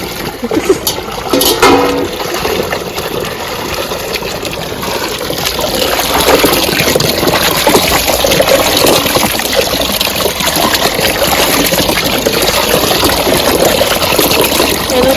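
Tap water runs steadily while mangoes are washed for pickle, a continuous trickling gush that grows somewhat louder partway through, with no talking over it.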